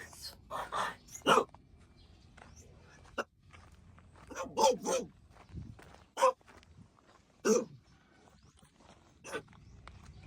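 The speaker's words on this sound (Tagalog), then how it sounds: "Dami ng aso dito." Several dogs bark in scattered bursts during a morning outdoor walk or run, some yips near and some farther off, over light footsteps and ambient background.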